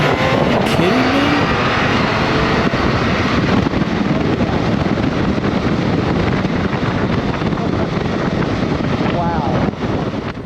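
A 2022 BMW K1600 GTL touring motorcycle with a 1649cc inline six-cylinder engine accelerates hard in sport mode, its engine roaring steadily and loudly for the whole stretch amid heavy wind rush, with a person's voice briefly audible.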